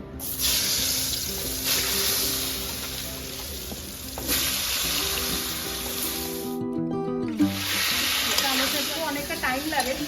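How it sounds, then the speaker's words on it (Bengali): Potatoes coated in spice colouring sizzle and fry in a wok at an outdoor rooftop picnic, a steady loud hiss with stirring clatter throughout, while music or a voice plays in the background. "ফার্স্ট একটু আলুটা ভাজবো কারণ আলুটা সেদ্ধ হতে অনেকটা টাইম লাগবে"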